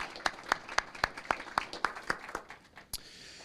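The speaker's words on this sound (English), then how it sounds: "If we could give her a round of applause." Slow, sparse clapping at a city council meeting, about a dozen evenly spaced claps at a steady rhythm, fading out near the end.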